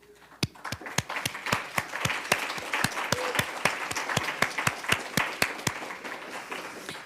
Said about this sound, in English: First of all, I think we owe Chris a round of applause.